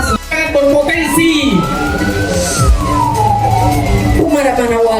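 Fire engine siren wailing loud and near during a forest and land fire drill, its rising and falling tone sweeping over rumbling engine noise, with talk underneath.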